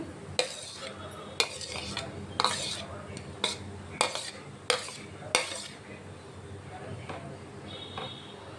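Vegetables fried in advance are stirred into a pot of boiling water for white pasta, with a spoon or utensil knocking against the pot in sharp, irregular clinks over a low bubbling simmer.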